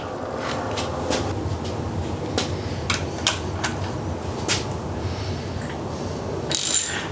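Belt tensioner being removed from a Ford Ranger truck engine in a garage teardown: scattered sharp metallic clicks and ratcheting taps over a steady low mechanical hum, close and moderately loud, with a brighter rattle near the end.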